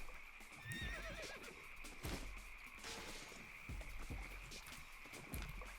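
A horse in Albion Online neighs and snorts amid steady clip-clopping hooves and faint ambient game sound, moderately quiet with no speech.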